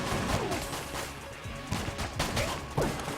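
Rapid video-game gunfire in Enter the Gungeon as pinhead enemies are shot, with dense repeated shots and impacts over busy game music and effects, continuous throughout.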